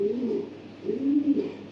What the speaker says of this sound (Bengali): দেখেন মাসাল্লাহ কালার কোয়ালিটি আর কবুতরটা যেটা রানিং একটা নর কবুতর খুব লংয়ের একটা কবুতর